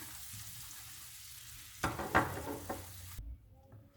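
Mint and garlic fry in a pan, a soft steady sizzle that gives way to a louder burst of crackling and stirring clatter near the end, then settles again.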